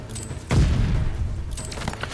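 A big explosion in the Call of Duty Vanguard video game bursts with a heavy low boom about half a second in, then crackles and rumbles away, with a smaller burst near the end.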